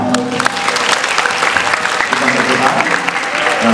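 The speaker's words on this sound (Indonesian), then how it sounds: "Tepuk tangan semuanya." An audience at a Bible-themed wayang puppet performance in Balikpapan applauds loudly and continuously, with voices mixed in among the clapping.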